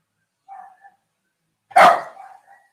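Dogs barking at other dogs, a couple of soft yips followed by one loud, sharp bark, close by with no talking.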